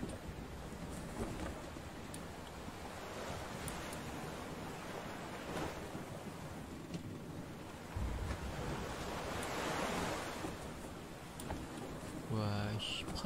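Ocean waves in the game Rune II roll and wash on and on amid blustery wind, a broad surf roar that rises and falls, with a brief voice near the end.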